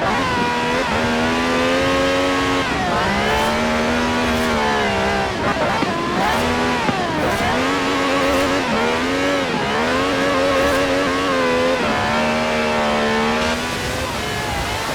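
A V12 cab car engine with over 750 horsepower in Forza Horizon revs loudly and continuously, its pitch repeatedly climbing and dropping through gear changes, close and dominant with no talk over it.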